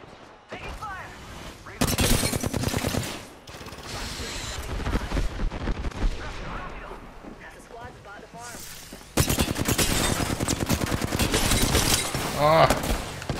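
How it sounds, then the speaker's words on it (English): Rapid bursts of shooter-game gunfire, with loud sustained volleys of repeated shots early on and again near the end, mixed with voices talking over the action. "Firing. Taking fire."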